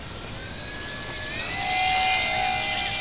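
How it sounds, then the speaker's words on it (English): A Slowbipe RC biplane flies slowly in to land on a street, its electric motor a steady whine that rises in pitch and loudness toward the end, with no talking. "Okay, I'm bringing her in for a landing."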